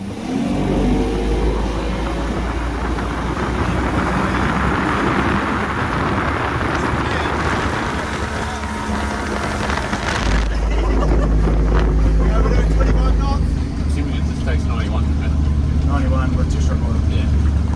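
A motorboat engine roars steadily during a full-throttle test, loud and close, with heavy wind buffeting the microphone throughout.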